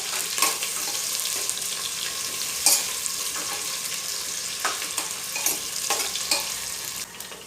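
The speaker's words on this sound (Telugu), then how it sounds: "ఒక క్యారెట్ సన్నటి తరుగు, ఒక బంగాళదుంప ముక్కలు వేసుకుని కలుపుకుంటూ వేయించుకోవాలి." Thinly cut carrot and potato pieces fry in a pan for vegetable biryani, a steady sizzle broken by repeated scraping stirs, close up and without talking.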